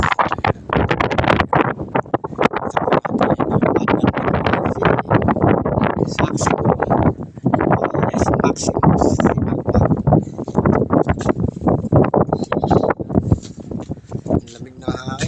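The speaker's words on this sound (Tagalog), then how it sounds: "Lamig na hangin, lakas ng hangin" Strong cold wind at a beach in Calatagan, Batangas buffets the microphone with constant roaring gusts while a person speaks over it.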